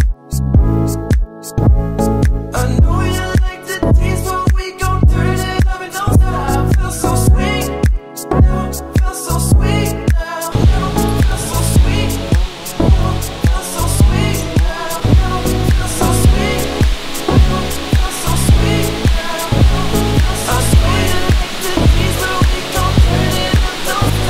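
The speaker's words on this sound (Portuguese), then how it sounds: "Já dá pra gente ouvir aqui o som da água" A waterfall along a hiking trail, its rushing water a continuous broadband roar throughout, mixed with intermittent louder rhythmic thumps and tones.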